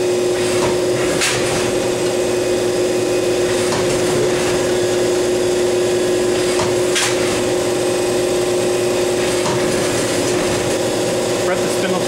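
A used 1998 Mori Seiki SH630 horizontal machining center sits unlevelled on wood blocks, its spindle running at 3,500 RPM with a steady, fairly quiet hum, a few knocks and rattles from the shaking, and people talking over it.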